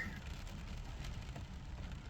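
Steady rain patters down in Lafayette, Indiana, in a dense, even hiss with low rumbling underneath, constant throughout and no voices.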